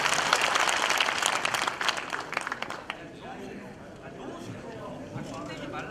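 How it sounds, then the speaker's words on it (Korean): Applause from an audience at a community meeting on relocating Daegu's military and civilian airport, loud and dense at first, then thinning into scattered claps and murmuring voices. "박수 부탁드리겠습니다"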